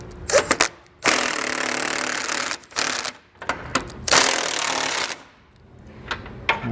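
Impact wrench bursts loosening 21 mm bumper bolts on a 2020 Ford F-150, two long loud rattling runs with short taps and clicks between, close and alone with no talk.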